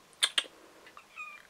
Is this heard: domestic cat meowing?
yes